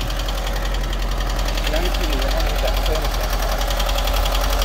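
A Volkswagen T25 van engine idling after its first start in 20 years inside an industrial warehouse, a loud, close, steady rattling, knocking drone that continues throughout while people talk briefly nearby.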